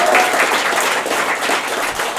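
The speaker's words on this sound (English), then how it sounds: "round of applause for Jacques du Son!" Audience applause after a performer is introduced at a live comedy stage show: dense, steady clapping from a crowd, loud and close, filling the whole stretch without any break.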